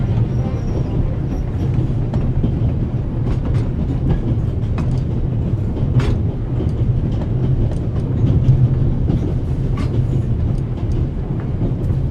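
A steam train in a video game runs steadily, its heavy rumbling roar continuous and close, with occasional clanks and hisses over the mechanical drone.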